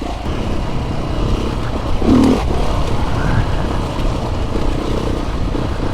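A heavy motorcycle rides a flinty, rocky green lane, its engine a steady low drone with a brief louder surge partway through, and no talking.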